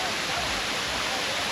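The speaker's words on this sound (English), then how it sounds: "Another waterfall." A waterfall in a Kuala Lumpur park rushes in a dense, continuous broadband roar that stays loud and even throughout the short moment.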